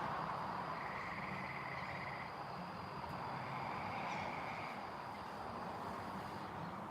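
Frogs croak at night in a steady, dense chorus of trilling calls, with a few louder buzzing calls rising above the background. No voices are heard.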